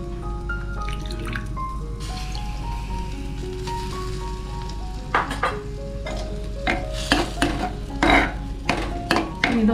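Tamarind water heating toward a boil in a pan for a curd chilli dish gives a steady low simmering bubble, with drips, clinks and stirring that grow busier and louder in the second half, and no voices.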